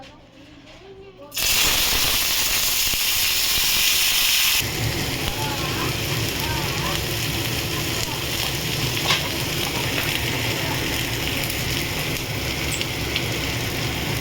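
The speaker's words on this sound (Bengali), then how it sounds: "এখানে দেখুন আমি গাজর, মটরশুঁটি আর পেঁয়াজ কেটে রেখেছি, এটা দিয়ে দেবো।" Carrots, peas and onion drop into hot oil in a kadai and fry with a loud, steady sizzle that starts suddenly, then settles into a continuous crackling hiss.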